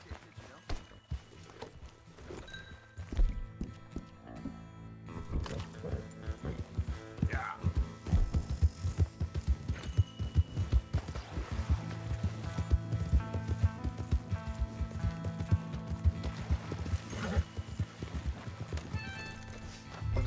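Rhythmic clip-clop of a Missouri Fox Trotter horse's hooves trotting in a video game, steady and fairly close, with a brief whinny and some game-like ambient sound.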